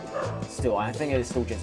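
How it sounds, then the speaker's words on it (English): A pet dog barks and yips in bursts at a lawnmower while a person talks over it, the barking partly masked by the nearby voice. "That's our dog barking at the lawnmower woman"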